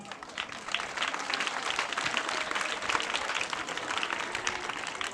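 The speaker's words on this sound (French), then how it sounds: "applaudissez-vous." Children and an audience applaud at a Christmas ceremony in a village in Côte d'Ivoire, a steady, dense patter of clapping that holds evenly for the whole stretch at moderate distance.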